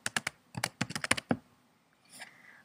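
Bursts of rapid typing on a computer keyboard, close and clear, with a short pause before a few softer keystrokes.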